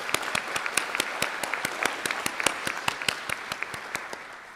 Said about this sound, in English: give them a round of applause for the individuals who have helped and inspired you